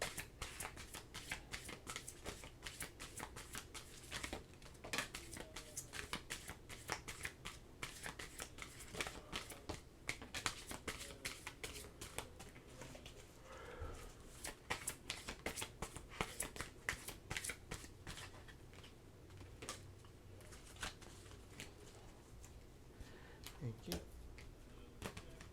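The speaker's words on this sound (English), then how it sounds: "let's get your last tarot cards here" Tarot cards being shuffled, a continuous run of soft, fast flicking and riffling clicks that stays quiet and close throughout.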